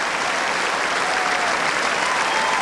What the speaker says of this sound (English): Listen to this audience at Court Central. Every man and woman and child standing to applaud.